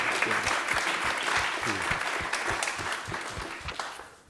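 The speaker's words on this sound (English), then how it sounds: "let's give them a round of applause" Audience applause at a divinity school event on faith and community in malaria work, a dense burst of hand claps from a room of people, steady and fairly close before tapering off at the end.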